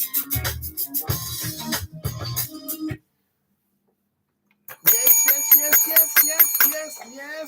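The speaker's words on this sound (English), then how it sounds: "The bell has rung." Bell ringing in bright, rapid metallic bursts, a few clusters at the start, a gap of silence, then another louder ringing stretch, with voices present.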